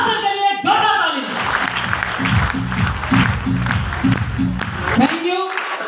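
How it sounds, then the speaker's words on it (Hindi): Loud audience applause in a crowded hall, welcoming two guests to the stage at a Safe Shop leaders' event, steady and sustained, with a voice talking and chanting over it throughout. "मिस्टर योगेंद्र सर और सर डॉक्टर स्वास्थ्य के लिए जोरदार ताली।"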